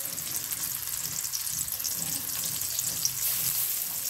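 Chopped onion fries lightly in oil in a pan, a steady close sizzle and crackle that runs on alone with no talk.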